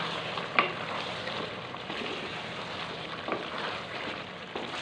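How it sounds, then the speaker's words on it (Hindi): Whole dried chillies fry in a pan of oil, giving a steady, faint sizzle with a few soft spoon scrapes throughout. "अब इसको हम करेंगे अच्छे से फ्राई।"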